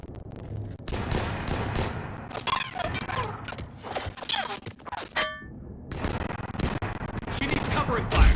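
Rapid gunfire and explosive blasts in the Mass Effect video game, bursts of shots cracking repeatedly amid booms, with voices speaking between volleys.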